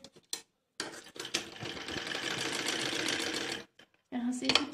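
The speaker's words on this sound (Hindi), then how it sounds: "अब इसके ऊपर हमें स्ट्रिप को सिलना है।" A sewing machine stitches a strip onto a baby frock, running in one steady burst of rapid needle clatter, with short pauses and quiet handling sounds at either end while someone talks.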